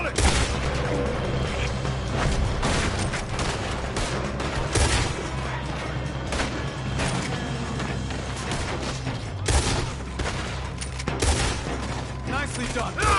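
Shootout gunfire in Red Dead Redemption 2, with dense overlapping volleys of shots and booms running throughout a busy, loud battle scene, mixed with speech and other game sounds.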